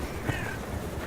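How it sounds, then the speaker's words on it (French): Crows and ravens calling in the wild, a faint caw rising once briefly over a steady outdoor background hiss. "Les corneilles et les corbeaux ne représentent pas de véritable concurrence."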